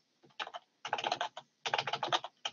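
Rapid typing on a computer keyboard, clattering keystrokes in three close bursts separated by short pauses, no voices.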